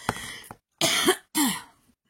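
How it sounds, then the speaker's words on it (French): Three harsh coughs close by, a short one followed by two longer, raspy bursts with brief pauses between. "Excusez-moi, je tousse."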